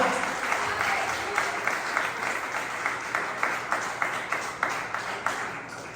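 A church congregation applauds together, steady massed clapping with a faint rhythmic pulse that holds at an even level from start to finish, no voices standing out.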